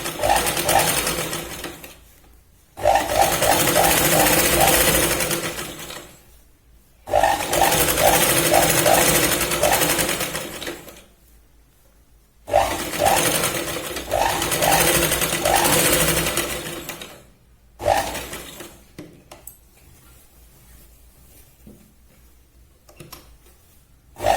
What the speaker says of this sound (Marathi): अर्धा इंच आपण याला आत घेत शिलाई लावतो.